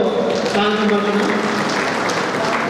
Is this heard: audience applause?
yes